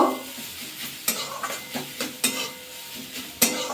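A spoon stirs a grated potato and masala snack mixture in a pan, with repeated scraping strokes and light sizzling, close and alone with no voices.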